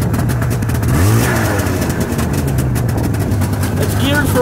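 A 1998 Yamaha Vmax XT500 motorcycle with a hole in its side runs at close range after a cold start, its engine rumbling and briefly revving up and down with a steady throbbing idle, loud throughout.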